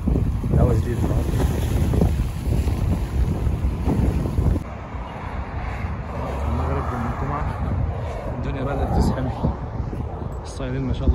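Wind blowing hard across the microphone out at sea on a fishing trip, a steady loud rushing with boat and water noise, changing tone halfway through.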